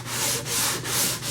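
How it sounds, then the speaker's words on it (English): A Durablock sanding block fitted with 80 grit sandpaper rasps in three long, even back-and-forth strokes, a close, loud, gritty scratching with no voices. "I just very quickly took my Durablock with some 80 grit on it, laid it across,"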